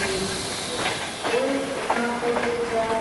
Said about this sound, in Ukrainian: Шановні пасажири, шостої колії відправляється поїзд номер 538